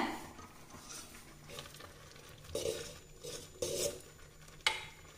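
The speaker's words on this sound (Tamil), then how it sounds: "இடையில இந்த பொங்கலையும் கொஞ்சம் பரட்டி விட்டுக்கலாங்க." Soft scraping and stirring of pongal in a heavy pot, with a few louder clinks of a spoon against the metal rim and a faint sizzle underneath.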